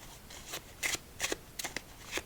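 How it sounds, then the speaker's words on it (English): Several crisp riffling bursts of a deck of playing cards being shuffled, close and fairly quiet, with short pauses between. "let's give this deck one more nice shuffle"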